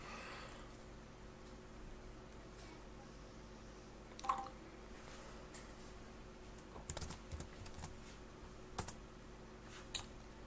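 Faint, sparse keystrokes on a computer keyboard during a Linux install, a few soft clicks spread over a quiet background hum.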